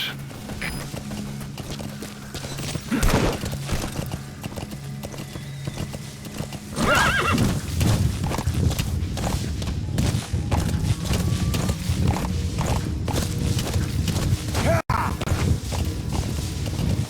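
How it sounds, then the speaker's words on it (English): A horse in the Metal Gear Solid V video game clip-clops along in a steady, loud rhythm of hoofbeats, breaking into sharp whinnies, over ambient game sound with no talk. "Use your horse."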